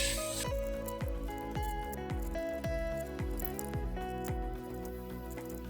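Minced meat cooking in a pan while it is stirred gives soft squishing and faint sizzle beneath a steady musical backing, the stirring sounds faint and partly masked.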